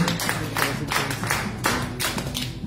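A church congregation applauds a Bible verse during a French-language service. The clapping comes in quick rhythmic bursts, close and fairly loud, with a few distinct swells over the short span.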